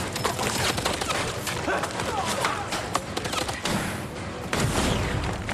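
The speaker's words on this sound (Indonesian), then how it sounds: "Raja Long melarikan diri dan dihujani tembakan." Rapid bursts of gunfire crackle in volleys amid loud action-film noise, shots overlapping in quick succession with brief booms.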